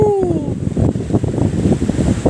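Rough surf crashes at a beach resort during a typhoon, a dense rushing roar mixed with gusting wind buffeting the microphone, loud and close.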